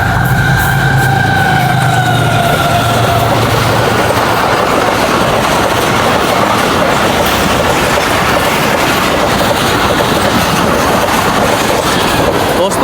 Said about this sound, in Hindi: ट्रेन बहुत अच्छी स्पीड में गई है और बहुत अच्छा थ्रू पास हुआ है जंगशाही से